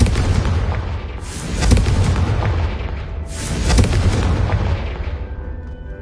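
Confringo blasting spell explosions in a Harry Potter video game: two loud, broad booming blasts a couple of seconds apart, each with a rumbling tail, under continuous game background noise.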